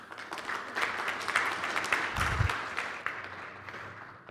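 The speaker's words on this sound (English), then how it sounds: "if I could have a big round of applause for my next presenter" Applause from a conference audience welcoming the next presenter, scattered claps building to a fuller round and then thinning out, fairly close and moderately loud.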